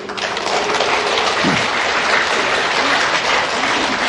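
A crowd applauding, dense continuous clapping filling the whole stretch at a steady, fairly loud level.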